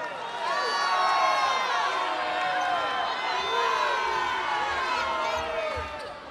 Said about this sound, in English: You can hear the crowd behind us.